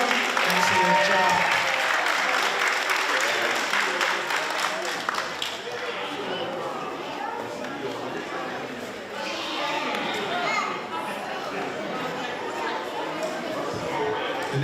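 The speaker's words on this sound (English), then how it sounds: "Give them a round of applause," A crowd claps loudly and continuously after a dance performance at a Native American dance ground event, mixed with cheering and chatter, the applause easing slightly partway through before carrying on.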